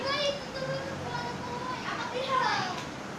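Kids at play in the background, with faint, continuous high voices chattering and shouting at a distance, with street ambience in front.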